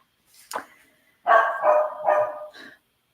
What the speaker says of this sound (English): And the doggies are picking a number. 3 barks means page 3.